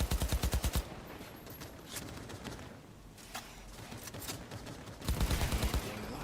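Rapid automatic fire aimed at turrets in Cyberpunk 2077: a fast rhythmic burst opens, sporadic shots and impacts follow, and a second sustained rattling burst closes, loud and close with little talk.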